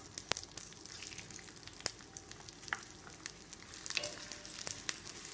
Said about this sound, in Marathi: कांदा घालायचा फोडणीला।